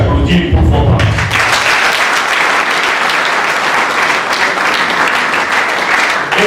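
Young audience at a political gathering with a senator bursts into loud, sustained applause for their parents, a dense roar of clapping that starts abruptly after a brief moment of voices and carries on steadily.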